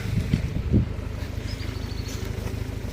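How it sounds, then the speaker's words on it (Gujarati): A large-tyred tractor pulling a trailer creeps slowly through a pomegranate field, its engine a low, pulsing rumble mixed with wind buffeting the microphone, a few faint bird chirps above it. "ટ્રેકર ધીમે ધીમે હાલું જાય છે"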